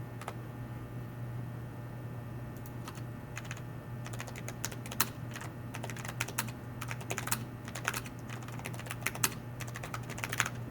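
Code being typed on a computer keyboard, quick irregular key clicks in short flurries over a steady low electrical hum, close and fairly quiet, with no voices.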